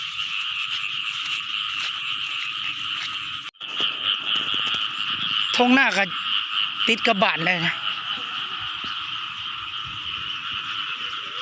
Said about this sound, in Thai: กบเขียดห้องขนาดเลย